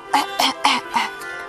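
A wolf character in a Little Red Riding Hood story fakes a raspy voice with four rhythmic forced coughs and throat-clears, close and clear, a voice imitating a sick grandmother.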